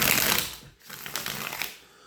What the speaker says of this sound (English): I'm just going to make sure the deck is shuffled